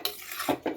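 A pot of coconut-milk curry being stirred by hand, giving a few soft scraping strokes and two short clinks of the spoon against the pot, close and quiet with no talk.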